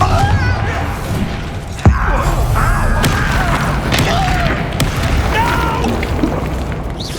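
Blasts from the Bombarda spell in Hogwarts Legacy land amid a dense rumbling game mix, with one sharp thump near the start and constant magical whooshes, loud and busy.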